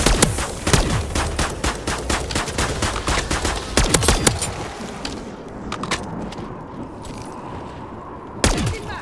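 Rapid bursts of gunfire against zombies in Modern Warfare 3 Zombies, sharp loud cracks fired in quick clusters, thinning into sparse shots and ending on a final blast, with no talking.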